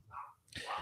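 Excited pet dogs at home give two quick, muffled barks, faint and somewhat distant, in a short burst.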